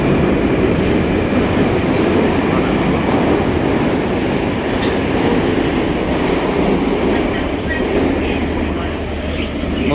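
A Moscow metro train runs through the underground: a loud, continuous roar of wheels and rumble filling the whole span, steady and close, with only slight dips in intensity.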